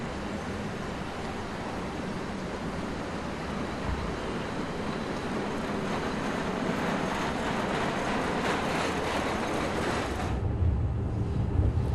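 A Wuppertal suspended monorail train runs steadily with a continuous broadband rumble and rush, loud and close for most of the ride, then thins out near the end.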